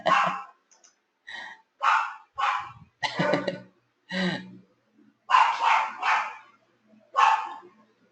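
A dog barks in a run of about ten sharp, loud barks spaced by short pauses, some grouped in quick pairs, with no other sound between them.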